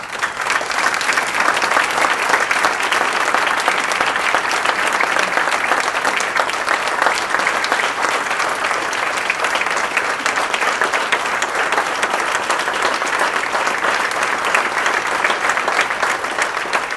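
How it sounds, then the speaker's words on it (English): Sustained, loud round of applause from a crowd at a pasta dinner event, dense clapping continuing evenly throughout with no talk over it. "I want a round of applause, please"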